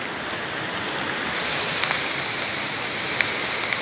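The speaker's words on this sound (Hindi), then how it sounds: "बहुत बारिश है आप देख सकते हैं।" Heavy rain on a foot trail in Siang district, Arunachal Pradesh: a dense, even hiss of falling drops with a few sharper close patters, steady throughout and without speech.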